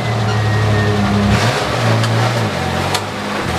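A pickup truck engine revs and strains steadily as the vehicle climbs onto service ramps, a continuous mid-pitched drone that rises and dips in a few surges, close by with no talking.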